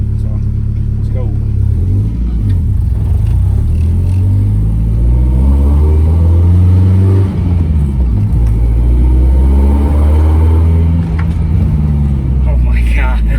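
Nissan S14 engine rumbling and revving up under acceleration on a brake test drive, heard from inside the car as a steady loud drone with rising pitch sweeps, with people talking over it.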